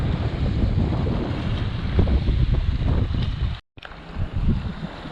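Strong wind gusts across a lake whipped into whitecaps, roaring and buffeting the microphone continuously, with a sailing boat paused on the water and a brief dropout near the end.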